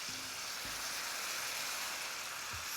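Soy sauce hits a hot skillet holding pork chops, giving a steady frying hiss with a few low knocks from the pan, fairly quiet and constant.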